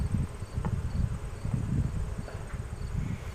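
Bees buzzing from an open hive during an inspection, a low, dense, continuous drone with shifting swells, fairly close and steady throughout, no voices.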